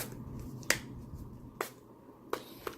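A sticky rose setting spray's nozzle is pumped, giving four sharp, quiet clicks at uneven intervals with near silence between them.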